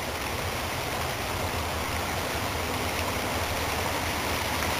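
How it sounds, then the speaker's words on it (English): A small stream runs continuously, a steady rushing babble of water with nothing else standing out. "Here's a little stream."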